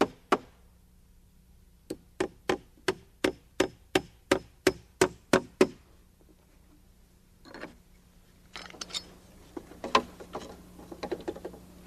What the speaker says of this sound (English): nailing each board in place